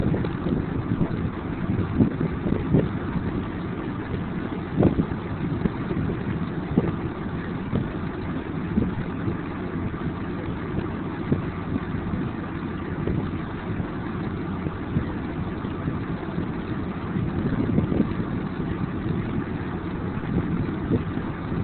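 A Selsam 20 kW wind turbine spins up in the wind, its broad steady whooshing roar growing slowly over gusty wind buffeting, with no voices heard.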